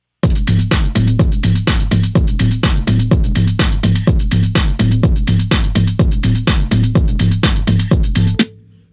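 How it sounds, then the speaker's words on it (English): A looped Moog synthesizer bass line from a CR2 sample pack pulses in steady, rapid even notes over a beat for about eight seconds, loud and dry, then cuts off abruptly. "So that bass line itself was made on the Moog,"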